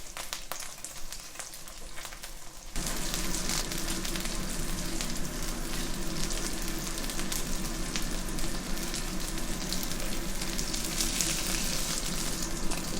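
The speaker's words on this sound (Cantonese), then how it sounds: "咁大概一邊咧煎分零鐘，佢就會達到呢個效果啊" Vegetarian seaweed and bean curd rolls pan-fry in oil on moderate heat. After a quieter start, a steady close-up sizzle with fine crackling bursts in and continues evenly.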